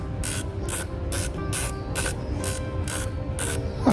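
A CVLife Eagle Blaze 5-25x56 FFP riflescope turret is turned by hand, giving about nine crisp, evenly spaced clicks up close in a quiet room.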